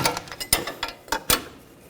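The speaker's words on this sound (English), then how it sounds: "On the back side, you want to take that nut off and an 18mm socket." Ratchet wrench with an 18mm socket turning a front strut nut on a 2014-2020 Nissan Rogue: a few sharp, close metallic clicks in an uneven rhythm over faint background noise.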